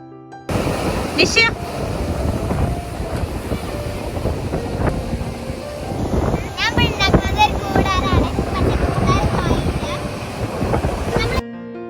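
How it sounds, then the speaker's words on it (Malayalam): Strong wind on a beach buffets the microphone in a continuous roar, with surf rumbling underneath and voices talking through it. "ബീച്ചിലും നല്ല കാറ്റാണ്"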